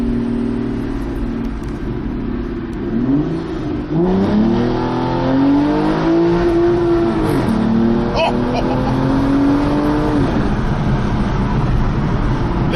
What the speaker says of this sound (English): I'm going to open the window just to give you an idea of the sound of this car.